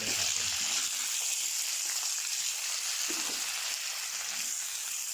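Garlic and snow peas stir-frying in a hot pan give a steady, close sizzle that crackles continuously throughout, with no voices.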